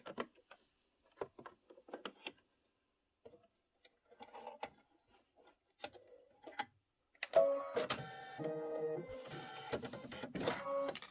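An embroidery machine stitches a grass strip for a spring quilt, starting with sparse, quiet ticking taps and then breaking into a louder, rapid mechanical chatter of needle strokes for the last few seconds.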